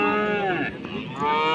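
A cow at a livestock market gives one long, loud, close moo that dips in the middle and swells again before cutting off, with no talk.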